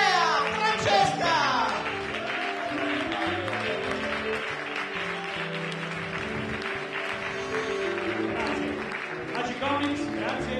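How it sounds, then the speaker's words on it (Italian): Audience applause at an improvised-song comedy festival show, loud and sustained through the whole stretch, mixed with music and busy stage noise, with speech heard alongside it. "Un grande applauso!"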